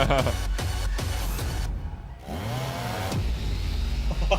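A chainsaw roars and revs in a video game trailer from the Bethesda E3 2019 showcase, loud and gritty within a dense mix of other effects and booming low tones.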